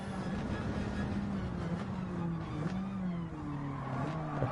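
A Chevy Monte Carlo stock car roars in a CASCAR Cup Series racing game on the Deep Forest Grand Prix track, a steady loud engine drone whose pitch dips and climbs as it shifts and races through the slipstream.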